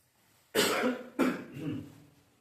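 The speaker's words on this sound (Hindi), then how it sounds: "खांसी होगी भैया।" Two loud, harsh coughs close to the microphone, the second trailing into a rasping throat clear, with quiet room tone before.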